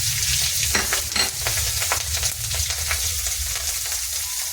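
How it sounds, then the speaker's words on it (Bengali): Cumin, green chillies and onion crackling as they temper in hot oil, a loud continuous sizzle with sharp spattering pops throughout and no speech. "ওই তেলের ভিতরে আমি ফোড়ন দিয়ে দেবো। প্রথমে দেবো আমি জিরে,"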